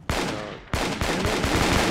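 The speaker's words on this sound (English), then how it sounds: "Are you shooting at me? Who's shooting at me?" Rapid gunfire rattles in the team-based VR shooter game Alpha Mike Foxtrot, with two sharp onsets followed by dense repeated shots, loud and close with no voices.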